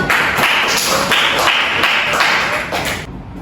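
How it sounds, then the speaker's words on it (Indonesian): A classroom of students gives a round of applause for a fellow student, Doni, with dense, steady clapping close by for about three seconds that then stops abruptly. "Beri aplaus untuk Doni dong"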